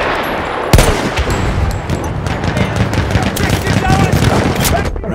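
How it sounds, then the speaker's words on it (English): Enemy machine gun fire in a combat video game, loud and continuous, a rapid rattling fusillade of shots from a sharp opening crack right through to the end. "Enemy machine gun over there."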